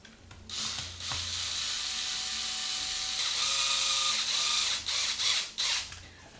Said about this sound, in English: now we'll put our bottom 4 screws in.